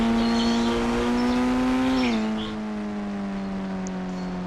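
A BMW car in a video game drives with a loud steady engine hum. Partway through, the pitch drops as the car shifts down or slows, and then it settles into a lower drone.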